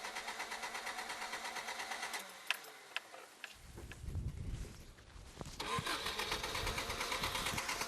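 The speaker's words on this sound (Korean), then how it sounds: "무엇 때문에 자꾸 시동이 멈추는 것일까요?" A car's engine at a high mountain village in Iran, with water in the engine, runs roughly, stalls into near silence, then cranks in short rattling bursts before catching and running again.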